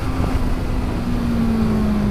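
A Honda CBR650R motorcycle engine hums steadily at close range, a sustained drone with a fairly constant pitch that barely rises, no talking over it.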